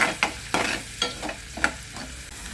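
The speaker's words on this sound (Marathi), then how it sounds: "कांदा पूर्ण भाजून घ्यायचा" Onion fries in a pan while being stirred, a few sharp utensil scrapes spaced about half a second apart over a steady, gentle sizzle.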